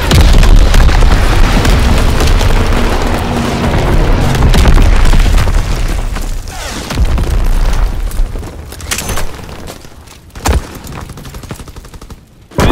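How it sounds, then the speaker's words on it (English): Artillery battery blasts and gunfire in a WW2 shooter set in Aachen, loud dense booms and rattling bursts for most of the stretch, thinning into scattered sharp reports near the end. "Firing primary battery."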